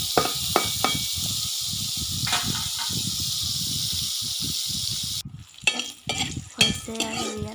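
Soybean chunks fry in hot oil with salt and turmeric, giving a steady loud hiss with repeated scraping stirs underneath. The hiss cuts off partway through, leaving sharper clatters and clinks.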